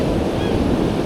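Rough ocean surf breaking on a beach at Jacksonville, Florida, a loud close churning wash mixed with wind buffeting the microphone, continuous over the short stretch, with no voices.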